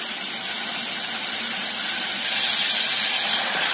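Onions sizzle in a hot pan with a loud, continuous close-up hiss that grows slightly stronger toward the end.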